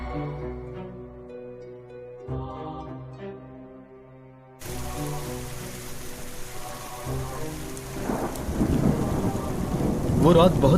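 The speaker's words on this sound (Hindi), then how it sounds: "वो रात बहुत बारिश हो रही थी।" Heavy rain pours steadily while thunder rolls and rumbles, the storm swelling louder toward the end, set against a sustained musical drone as a dramatic effect in a Hindi horror story.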